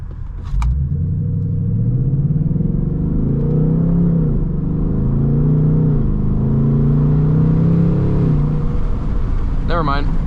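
A 2024 Ford Mustang GT Premium V8 pulls hard in fifth gear with the windows down, its engine a loud, steady low rumble rising and falling as it accelerates, with wind noise over it.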